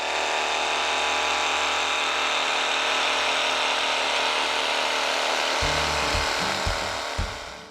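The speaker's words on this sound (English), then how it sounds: "It is now time for some hedge trimming, and we have got a double-sided, double reciprocating hedge trimmer" ECHO 56V battery double-sided, double reciprocating hedge trimmer running with a steady high-pitched motor whine, then cutting into a hedge with a choppy, rattling rhythm of snips toward the end.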